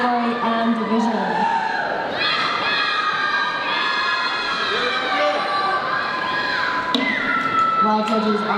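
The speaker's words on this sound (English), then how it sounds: "big round of applause for these beautiful young ladies" Crowd at a Polynesian dance competition cheers and shouts for girls aged 11–13, a loud continuous roar of applause with high children's shouts and whistles throughout.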